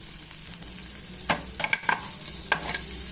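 Ingredients for a restaurant-style palak paneer curry are stirred and fried in a pan until lightly golden: a soft background sizzle broken by several scraping strokes and clinks of the spoon, close and fairly quiet, with no talking.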